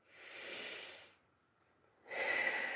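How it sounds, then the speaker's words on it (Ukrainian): Slow breaths in and out during a relaxation exercise. A soft airy exhale is followed by a pause, then a stronger, hissier breath. Close and quiet, with no talking. "Піднімаємося. Вдих, видих."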